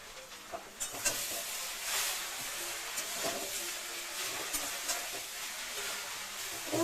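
Greens being stirred in a hot pan after a little sugar is added, with a steady broadband sizzle and hiss throughout and soft scraping strokes of the spoon at irregular intervals, close and moderately loud.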